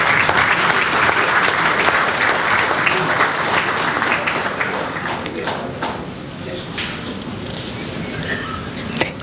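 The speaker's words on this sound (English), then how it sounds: "Please give him a big round of applause." Sustained applause from a large crowd at a tax conference inaugural session, dense clapping filling the room, gradually thinning toward the end.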